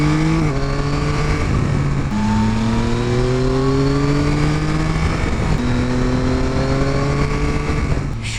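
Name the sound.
Yamaha Tracer 9 GT motorcycle riding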